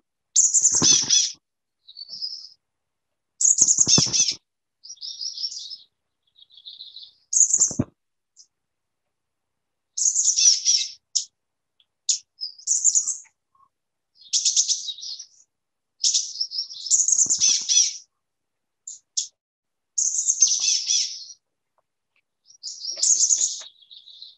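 A chestnut-backed chickadee from Vancouver Island repeats thin, high, buzzy call phrases in clear separate bursts with silent gaps between them, close and alone.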